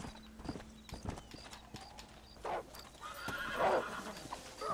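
A horse in Red Dead Redemption whinnies loudly after being hit, its neigh rising and wavering near the end, with hoofbeats clopping and scattered thuds throughout.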